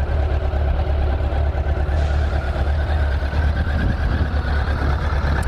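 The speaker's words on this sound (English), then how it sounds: "The bike revs up and runs really good." A 2005 Suzuki Katana GSX600F motorcycle with its factory exhaust runs steadily, a continuous low engine drone held at constant loudness throughout with no voices.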